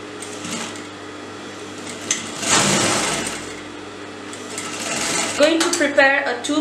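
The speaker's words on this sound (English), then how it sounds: "now you're going to sew at the exact margin of this" Sewing machine running in steady bursts as it stitches along a folded fabric strap for a hidden bra strap, fairly close and loud, with a voice speaking briefly near the end.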